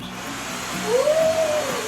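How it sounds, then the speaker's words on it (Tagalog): A household vacuum cleaner runs steadily close by, its broadband hum rising slightly with a brief whine that sweeps up and holds before easing. "Enjoy si Eliza gamitin yung vacuum."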